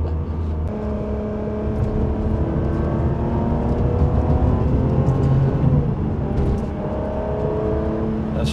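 A car engine with paddle shift revs freely at half throttle, its pitch climbing and falling in several sweeps, heard loud and close from inside the cabin with no talk.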